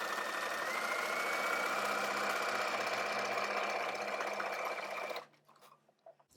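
A sewing machine fitted with an edgestitch foot top stitches ribbon along a fabric edge, running in a steady, close whir for several seconds before stopping, leaving faint clicks and handling sounds.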